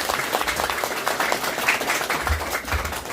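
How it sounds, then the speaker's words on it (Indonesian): Listeners at a talk give a short burst of applause for Pak Buhori of P-Showroom, a quick patter of many hands over a low rumble in the room. "Tepuk tangan buat."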